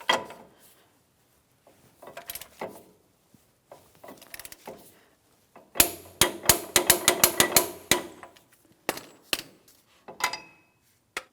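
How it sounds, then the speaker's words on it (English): A torque wrench ratchets on the axle nut of a 2007-2014 GMC Sierra 2500 HD, tightening it to 188 foot-pounds. Scattered clicks and knocks give way to a rapid run of sharp, close ratcheting clicks, then a few final taps. "I'm going to torque this to 188 foot-pounds"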